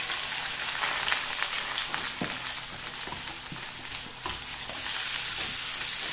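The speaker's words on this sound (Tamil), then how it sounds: "இப்போ நம்ம கட் பண்ணி வச்சுருக்கிற வெங்காயத்தை போட்டுடலாம்." Thinly sliced big onions frying in hot oil in a kadai for a Kerala-style egg curry, producing a close, steady hiss and sizzle with a few scraping stirs and light knocks.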